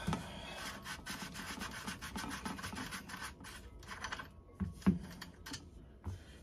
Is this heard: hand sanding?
yes